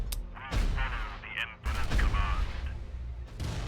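Heavy titan weapon fire in the Adeptus Titanicus: Dominus strategy game, booming blasts with sharp crackling impacts in a few bursts, loud and close, over a low rumbling battlefield bed.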